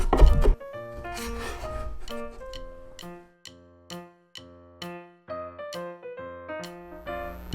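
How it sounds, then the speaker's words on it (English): A knife chops garlic cloves on a wooden cutting board in a steady, quick rhythm of close, crisp taps, with a louder scrape at the start. "First, prepare 3 cloves of garlic and mince them finely."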